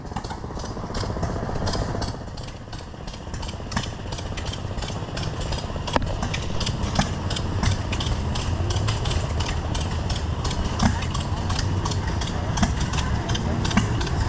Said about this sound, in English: Various garden tractors, Cub Cadet,